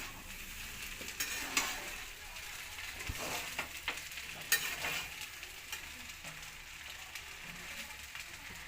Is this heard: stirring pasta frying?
yes